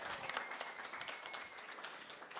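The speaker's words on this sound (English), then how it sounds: "Give Mitzi a round of applause." Wedding reception guests applauding, a soft, fairly distant wash of steady clapping that holds for the whole stretch.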